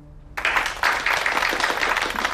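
Applause from diners at a company dinner breaks out suddenly after a quiet start, a dense, steady burst of clapping from many hands that carries on through to the end.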